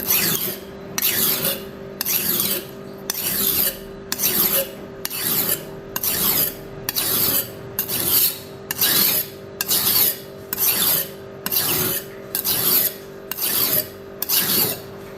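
A knife is sharpened on a wet whetstone in steady, rhythmic strokes, about fifteen evenly spaced rasping scrapes that sound close and clear, with no talking.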